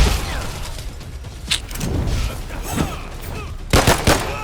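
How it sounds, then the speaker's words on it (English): Gunfire in the early-access video game Elementite, several loud sharp shots over a busy, rumbling game soundscape, the last few bunched close together near the end. "how I fire this gun"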